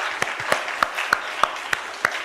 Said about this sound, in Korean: 우리 박수로 우리 환영합시다.